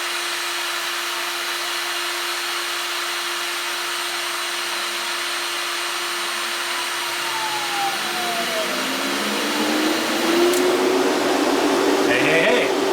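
A heat gun blows steadily beside a 1977 Camaro Z28 while fan controller wiring is tested, a constant loud airy hum joined near the end by a rising motor whine as something else starts up.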